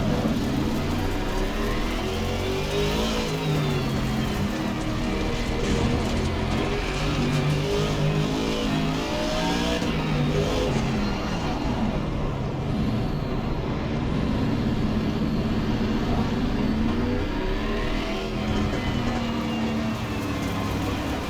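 Racing cars in Assetto Corsa Competizione roar together at the start of an online race, a dense, continuous wash of engines accelerating toward the first corner, loud and sustained with shifting pitch sweeps throughout.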